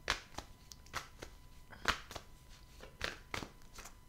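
Belline oracle cards shuffled by hand for a reading, a quiet series of soft, crisp card riffles and taps at an irregular rhythm, close and alone with no talking.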